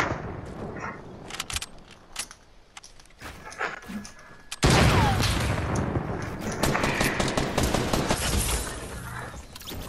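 Rifle gunfire in a video game erupts in a dense barrage of sharp cracks and bursts, loud and sustained through the second half after sparser shots and clatter earlier.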